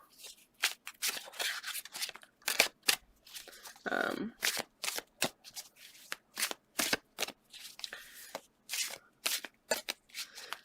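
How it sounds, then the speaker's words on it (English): Tarot cards are shuffled in quick riffling bursts, repeated many times in a brisk rhythm, close and fairly crisp. "I do always try to shuffle off screen as well."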